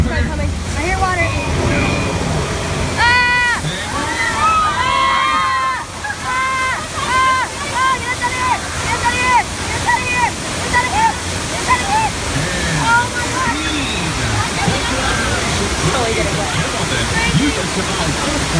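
Loud rushing water pours through a subway-station set during the Universal Studios earthquake ride, under excited crowd voices and screams.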